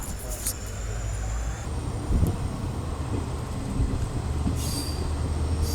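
Passenger train on the Ballari to Mantralayam route, heard from on board as a steady rumble of wheels on rail with intermittent squeal, continuous and moderately loud, with faint voices in the background.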